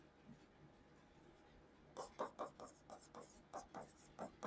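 Chalk or marker writing on a board during a Hindi-language history lesson, a quiet start followed by a run of short scratchy strokes in quick irregular rhythm, close and moderately loud, with no talk.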